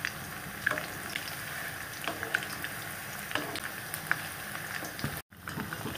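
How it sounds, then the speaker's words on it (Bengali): Chicken pakoras frying in hot oil, a steady close crackling sizzle with scattered pops throughout, briefly cutting out near the end. "তো এইভাবে করে আরও 2 মিনিট খুব ভালো করে ভেজে নেব"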